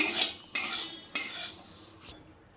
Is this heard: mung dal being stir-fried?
yes